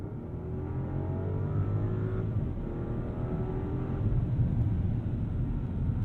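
A 2022 Rolls-Royce Cullinan SUV with an 8-speed transmission accelerates, heard from inside the cabin as a smooth, steady engine drone whose pitch climbs and then holds, moderately loud and continuous throughout.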